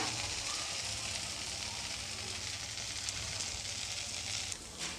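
Jeera akki rotti (cumin rice-flour flatbread) cooking on a hot pan, giving a steady, close crackling sizzle that holds evenly throughout with a brief dip near the end.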